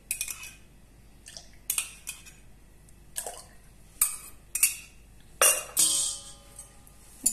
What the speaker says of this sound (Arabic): نحرك مليح